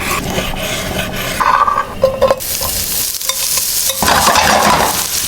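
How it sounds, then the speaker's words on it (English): Guanciale is sliced on a cutting board with a knife, giving close, rasping strokes that come in uneven bursts with short pauses between cuts. "Let's cut some guanciale."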